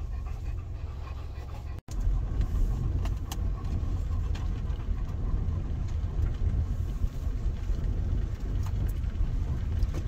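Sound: car driving on a road

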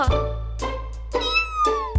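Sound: small cat meowing, cartoon

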